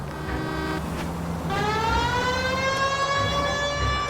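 A steady, rising electronic siren in the video game L.A. Noire wails continuously over low rumbling background noise, loud and sustained.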